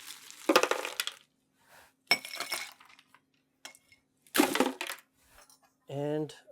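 Ice cubes clink and rattle into cocktail mixing glasses in a few short, bright bursts separated by quiet pauses, close and moderately loud, followed by a brief voice.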